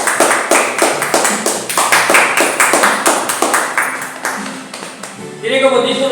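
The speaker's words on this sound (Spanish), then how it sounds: "den un aplauso al Señor" A church congregation applauding together, a steady wash of many hands clapping in dense rhythmic bursts, loud and close, fading near the end as a sustained tone rises.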